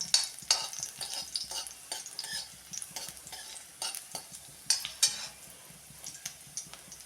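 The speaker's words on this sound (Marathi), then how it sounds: "मिरची थोडी परतून घेऊया" Thinly sliced green chili sautéing in a pan for a potato bhaji, with soft frying crackle and intermittent stirring scrapes and clinks of a spoon against the pan, fairly quiet and without voices.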